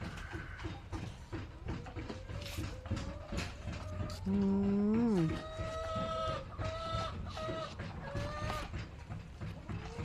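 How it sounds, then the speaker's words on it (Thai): Chickens cluck and squawk nearby, with a rooster's drawn-out call rising in the middle, over steady farmyard background noise and faint talking. "อันนั้นคือไก่"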